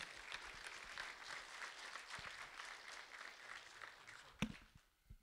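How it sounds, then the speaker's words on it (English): Applause at an awards ceremony for a staff officer, a soft, steady patter from a moderately distant audience, with a louder single knock near the end. "A round of applause for Staff Officer Tyus."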